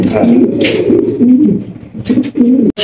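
Blue magpie pigeons coo in a steady run of throaty, rolling calls, close and fairly loud, broken by a few short noisy bursts near the end.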